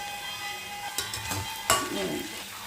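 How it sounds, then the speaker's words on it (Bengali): Onion sizzles in hot oil in a pan for a dried-fish curry, a soft steady frying hiss broken by a few stirring scrapes and metallic clinks of a utensil against the pan. "পেঁয়াজটা ভাজা হতে থাক"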